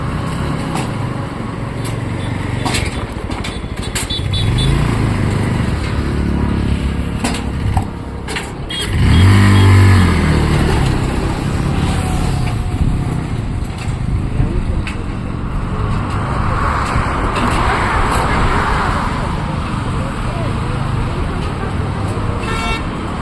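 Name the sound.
motorcycle food cart trolley being driven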